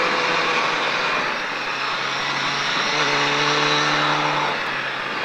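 Triumph Daytona 675 motorcycle accelerating on a racetrack at La Ferté-Gaucher, a sustained loud engine roar rising in pitch, heard with heavy wind rush from an onboard position.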